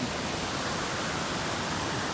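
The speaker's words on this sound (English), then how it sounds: "That creek came up and got muddy" A creek swollen and muddy after a hailstorm rushes in Oregon's Strawberry Mountain Wilderness, a loud, unbroken broadband roar of moving water with no other sounds over it.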